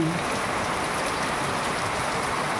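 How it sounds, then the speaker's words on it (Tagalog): Heavy tropical rain in Siargao pours down in a dense, unbroken hiss, steady and close, with no other sounds standing out. "Walang tigil ang ulan."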